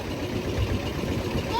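A boat engine chugs with a low, steady rumble on the river at Falta, heard close and continuous while people talk over it.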